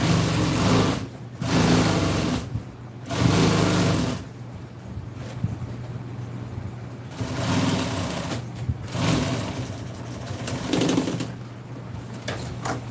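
A sewing machine stitching a truck seat cover runs in bursts, its motor whirring steadily for several seconds, pausing briefly, then starting up again, fairly loud and close.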